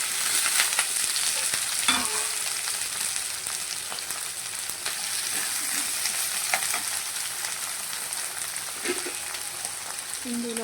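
Ivy gourds sizzling in hot oil in a pan, a steady, loud, dense crackle and hiss that continues throughout, with a few faint clinks and no talking.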